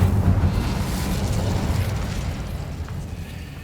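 Incendio fire spell cast in Hogwarts Legacy, a loud fiery burst with a deep booming roar that fades out over a few seconds.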